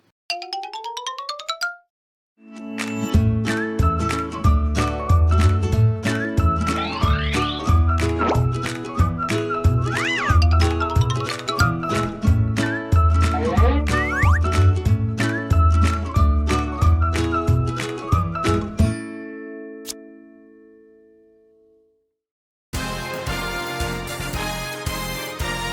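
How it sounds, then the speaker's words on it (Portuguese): A channel intro jingle plays loudly after a short rising chime, a dense run of bright plucked and percussive musical tones that fades out near the end before another burst of music starts. "Enzo, roda a vinheta"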